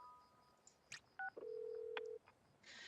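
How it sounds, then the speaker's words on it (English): A loud in-game phone call tone from the video game Heartopia: a few short electronic beeps, then a long steady ringing tone held for about a second, over a busy background of game sounds. "The phone call's always so loud."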